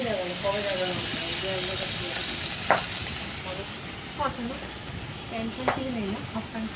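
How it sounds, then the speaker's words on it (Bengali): Curry sizzling as it is sautéed in a pan, a steady soft frying hiss with a few sharp stirring clinks, while someone talks over it. "ঝোলটা সাঁতলাবো, এই কথাই ছিল।"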